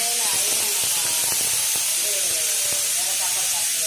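A pressure cooker of dal lets out a steady, loud hiss of steam that runs the whole time, with some faint clatter underneath.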